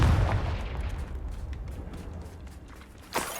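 A Confringo fire spell bursting in the Hogwarts Legacy video game, a rumbling boom that decays over a few seconds, followed by a sharp second burst near the end.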